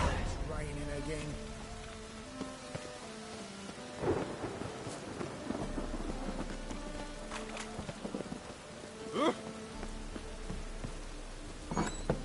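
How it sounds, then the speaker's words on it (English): Steady rain falls in The Witcher video game, a dense hiss with rumbles of thunder and scattered drips, mixed with faint game sounds. "It's raining again."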